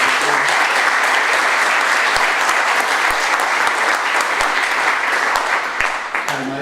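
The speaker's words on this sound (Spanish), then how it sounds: "Un aplauso para la universidad" An audience at a Latin American labour conference held at a university gives loud, dense, sustained applause that carries on for several seconds before easing off near the end.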